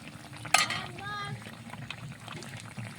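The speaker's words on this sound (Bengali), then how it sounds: "এবার এই যে বেগুনগুলো চুবড়ি চুবড়ি তেলের মধ্যে দিয়ে দিচ্ছি।" Battered eggplant chops dropped into hot oil, a sharp sizzle burst at the start that settles into a steady soft frying crackle, close up in a home kitchen.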